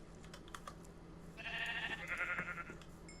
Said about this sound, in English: Oh, blue sheep. Black sheep.